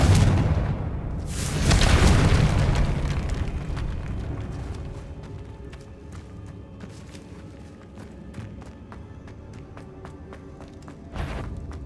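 Confringo fire spell blasting in the Hogwarts Legacy video game: a loud booming explosion with a roaring burst that slowly decays into crackling debris and rumble, followed by a second sharp blast near the end.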